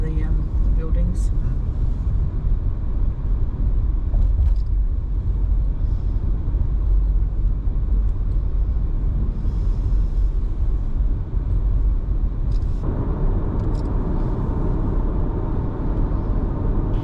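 A car driving through the town of Cortez, Colorado gives off a constant road and engine rumble with tire noise. Occasional clatters and a shift in tone come near the end as it rolls along.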